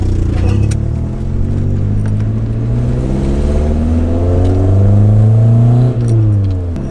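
A car accelerates on a test drive just after a new radiator install, its engine note rising steadily through the gears and loud and close throughout, with a brief dip near the end as it shifts.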